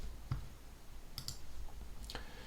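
Computer mouse clicks while browsing a web page: a few sharp, quiet clicks, two in quick succession and another shortly after, over a steady background hum.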